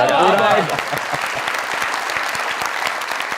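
Studio audience at a Pakistani comedy talk show bursting into steady, dense applause that continues throughout, with a voice heard briefly at the very start before the clapping takes over.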